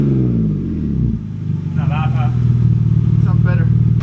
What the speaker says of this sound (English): I can't even really hear the car. I can hear more of the motor